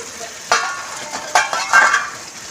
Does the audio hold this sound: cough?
no